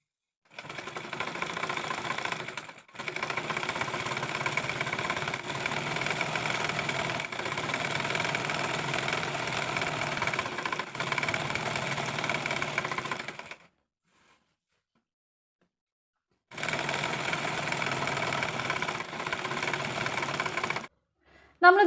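A sewing machine stitches a cross piece onto a dress neckline in fast, continuous mechanical runs, pausing briefly, then stopping for a few seconds before another burst of rapid stitching.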